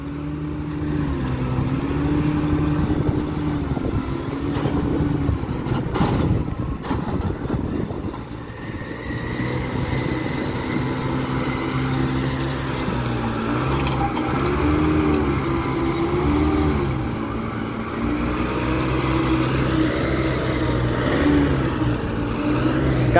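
A new wheel loader's diesel engine works steadily at a sugar mill, its drone rising and falling with load changes, loud and continuous close by, with a brief rattle of clanks partway through.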